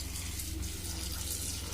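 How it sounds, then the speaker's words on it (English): Tap water runs steadily into a vessel to wash fruit for juice, a continuous close rushing hiss with no pauses. "We have to fill it by water"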